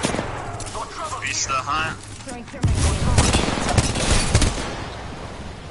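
Gunfire in the Apex Legends battle royale game, a dense burst of rapid shots and impacts that grows louder in the second half, mixed with a player's voice.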